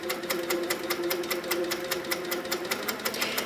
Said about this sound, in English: So I'm just going to go around with nice even stitches all of the piece.